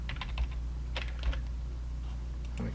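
Quick bursts of keystrokes on a computer keyboard, close and fairly quiet, in short irregular clusters separated by pauses over a low steady hum.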